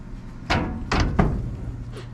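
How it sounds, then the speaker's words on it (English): Metal door of an outdoor wood boiler burning seasoned maple is swung and shut, giving three heavy thuds and clanks close by over a steady low rumble. "Let's go ahead and shut our door and wrap up."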